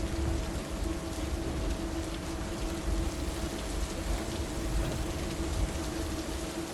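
Rain falling near the terminus of an Arctic glacier, a steady broadband hiss of drops with a low rumbling undertone, continuous and even throughout.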